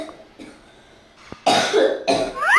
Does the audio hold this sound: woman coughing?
yes